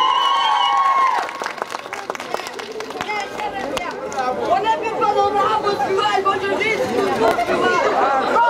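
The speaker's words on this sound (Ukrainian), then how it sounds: "Ще раз ваші оплески!" A large crowd claps and chatters together at an autumn festival in Stryi, Ukraine, the applause rising after a voice and staying dense and steady to the end.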